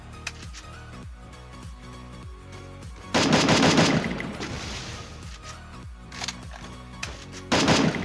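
Rapid bursts of automatic gunfire in the battle royale game Garena Free Fire, with rattling sequences of shots, a loud sustained volley in the middle, and further short bursts near the end.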